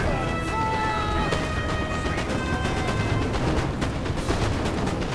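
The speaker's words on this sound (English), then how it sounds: "Gunfire." Massed musket fire and artillery booms crackle through a Napoleon: Total War battle against a Prussian line, dense overlapping shots and distant blasts rolling continuously under a faint voice.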